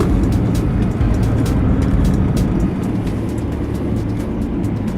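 A 2015 BMW 328i with a 2.0-litre turbo four-cylinder drives through a sharp corner, a loud steady engine drone with rushing wind and road roar from inside the car, no talk.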